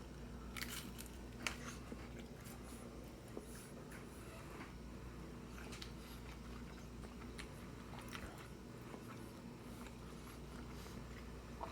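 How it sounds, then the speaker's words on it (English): Close, quiet crunching and chewing of a Home Run Inn supreme frozen pizza crust, with irregular crisp bites and soft mastication repeating over a steady low room hum, no talking. "It's got like a very nice subtle crunch to it."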